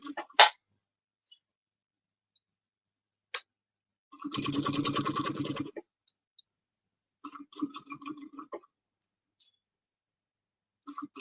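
A sewing machine stitches a seam in a short, rapid burst of about a second and a half, then a few briefer stitching runs follow, separated by quiet gaps and scattered clicks.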